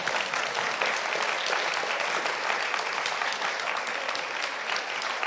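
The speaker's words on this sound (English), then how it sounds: "big round of applause for a fantastic panel." Festival audience gives a panel on elections a sustained round of applause, dense and even clapping from a fairly large crowd lasting throughout.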